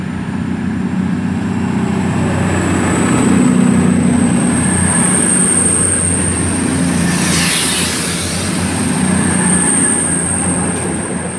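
A CrossCountry service to Bournemouth pulls out of Brockenhurst station running late, a loud continuous rumble of wheels and engine with a thin high whine above, swelling slightly as it passes.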